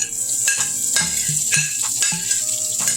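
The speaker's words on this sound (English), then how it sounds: "Let's add our onions back in here." Cooked onions returned to a hot pan for a smothered pork chop gravy, sizzling loudly and up close as a utensil clinks and scrapes against the pan in several sharp strokes.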